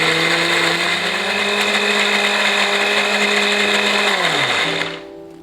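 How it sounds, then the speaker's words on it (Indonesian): Blender grinding a sautéed chili and shallot spice paste with oil, a loud steady whirring roar for several seconds that dips in pitch and cuts off near the end, no talk. "Kemudian giling bumbu dengan blender sampai halus."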